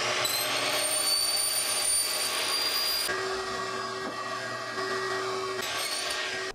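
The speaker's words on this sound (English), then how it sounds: "I'm going to use my miter saw just because it's here." A miter saw cuts a Schluter shower curb, its motor giving a loud, steady, high-pitched whine that runs the whole time and shifts slightly in tone partway through, with no talking.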